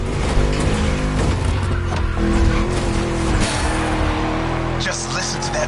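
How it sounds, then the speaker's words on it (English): A V8 car engine in the video game The Crew growls and revs loudly with tire squeal, a deep rumbling tone shifting pitch as it accelerates, with a voice talking over it. "Just listen to that V8 like a chunky, down-tuned guitar riff."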